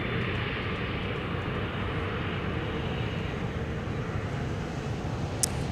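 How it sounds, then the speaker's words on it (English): A SkyWest regional airliner arriving at Minneapolis–Saint Paul airport on its flight from Sioux Falls gives a broad, steady engine roar, loud and continuous with no break, with no voices over it. "Here's SkyWest Flight 4085 from Sioux Falls"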